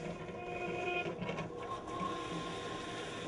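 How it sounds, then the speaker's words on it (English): The pump of a Pitco fryer filter machine runs at a steady mechanical whine and hum, faint and continuous throughout. "Flip the toggle switch on the front of the machine up to start the pump."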